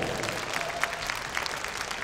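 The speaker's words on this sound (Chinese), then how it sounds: "请大家再把最热烈的掌声送给我们的两位选手" A live audience applauds two players at a WCS Shanghai all-star StarCraft match: dense, steady clapping over a crowd murmur, with a few sharper claps standing out.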